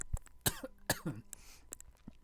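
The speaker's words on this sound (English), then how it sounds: "I'm about to cough really hard" A few hard, close coughs in quick succession, then a throat clear and small breathy sounds, with no talking.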